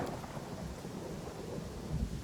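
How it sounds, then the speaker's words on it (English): Thunder and rain in the video game Pathfinder: Kingmaker form a dense, steady wash of rainfall with a low, rumbling swell near the end, all moderately loud and with no voices. "we're all moving slow as sin because it's raining. I hate rain in this game."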